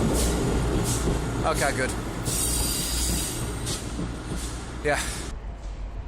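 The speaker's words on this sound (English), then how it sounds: "So as I wait for the train to pass, so I can hear myself speak." A full passenger train rolls past close by with a loud, steady rumble and repeated high metallic wheel squeals, while someone speaks briefly over the noise.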